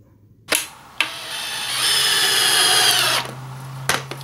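A power drill drives screws into 2x4 boards for a concrete chimney cap form: two short trigger bursts, then a sustained high whine lasting about a second and a half, and a final brief burst, all close and loud.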